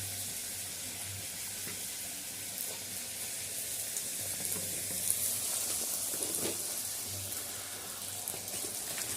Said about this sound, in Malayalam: അങ്ങനെ പോയി പൊരിക്കട്ടെ.